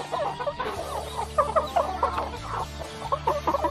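Several chickens cluck in short, overlapping bursts nearby, with a steady low hum underneath.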